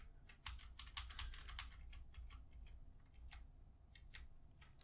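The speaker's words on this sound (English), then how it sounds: "I'm having to use my keyboard behind myself" Rapid clicking keystrokes on a computer keyboard, a quiet, close series of irregular taps in quick bursts with short pauses, alone in a hushed room.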